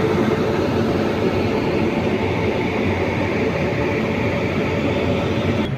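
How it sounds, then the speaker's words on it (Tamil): A Coimbatore–Kurla Express train with a WAP7 electric locomotive gives off a steady, loud broadband rumble and hiss that stays even throughout, with no voices. "இன்ஜின்லாம் கப்பல் பண்ணி ரெடியாக இருக்குது. சவுண்டிலே தெரியும்."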